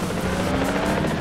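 A helicopter in the Batman Begins video game hovers close with a steady, loud rotor drone and engine whine.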